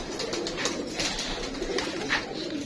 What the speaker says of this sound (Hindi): ये टैंडी कबूतर